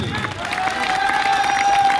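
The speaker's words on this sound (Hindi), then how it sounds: "अब बारी आपकी है और मैं वहां बैठकर सर के साथ तालियां बजाऊंगा" Applause from a seminar audience in Sonipat, Haryana, a dense, steady patter of many hands clapping throughout, fairly close and evenly sustained, with a faint tone ringing underneath.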